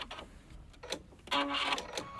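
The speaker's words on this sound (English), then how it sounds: "it's going to begin with the taper. And then it's going to continue to repeat the pattern that I selected until I touch the back stitch" A Luminaire/Solaris sewing machine stitches a taper stitch, giving a faint, quick series of mechanical whirs and clicks that swell into a brief louder run near the end.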